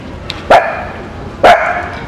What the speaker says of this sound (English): There's a dog over there that keeps crying for Mimi